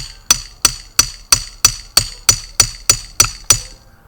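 Ten evenly spaced sharp metallic strikes of a hammer driving a steel wedge into a log, loud and close, with a steady rhythm and each blow ringing briefly before the next.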